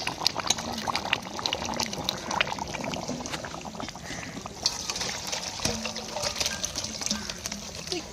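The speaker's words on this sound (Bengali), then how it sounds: "এই চিকেন রান্না করছি" Chicken curry simmers in a pot with quiet bubbling, small liquid pops and trickling that stay close and fairly steady throughout.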